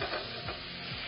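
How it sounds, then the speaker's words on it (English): Red peppers and edamame stir-fried in a hot pan, with steady sizzling and a few scraping tosses of the spatula, close and continuous. "toss all the ingredients together"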